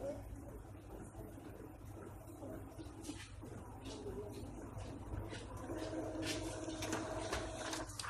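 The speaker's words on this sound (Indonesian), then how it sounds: "Maka dia akan print out hasil dari nozzle check." An Epson L3110 inkjet printer runs a nozzle check print, giving quiet mechanical whirring and repeated clicking carriage passes against a low background hum, growing busier toward the end.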